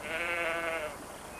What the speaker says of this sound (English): Sheep! Mouflons, to be exact, Pencroff.